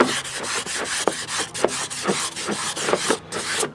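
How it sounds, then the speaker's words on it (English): Rapid back-and-forth rasping strokes of hand sanding a plastic Honda Dio scooter part, close and rhythmic, a dozen or so scratchy passes with no talking. "this is what sanding does."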